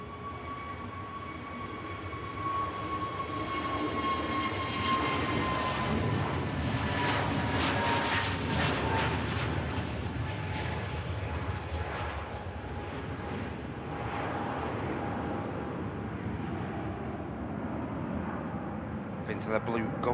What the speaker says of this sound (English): Here goes that EasyJet. Off to Naples.